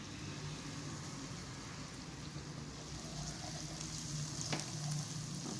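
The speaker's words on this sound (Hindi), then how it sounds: "ये देखिए जैसे ही लहसुन जो है वो अपना कलर चेंज करता है इसके अंदर जो है वो हम डालेंगे कड़ी पत्ता।" Curry leaves and garlic sizzle steadily in hot oil for a Hyderabadi baingan dish, a close, continuous crackling fry that grows slightly louder toward the end, with no talking.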